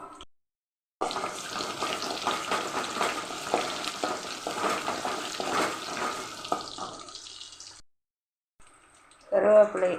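Cumin, fenugreek and garlic sizzle and crackle in hot oil as they sauté, a busy frying hiss with stirring that lasts several seconds, cuts out briefly and ends with a short clatter.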